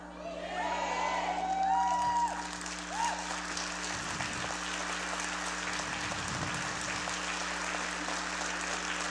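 Congregation at an evangelical preaching gathering bursts into applause with some cheering and a whoop, loud at first then settling into steady clapping over a constant electrical hum.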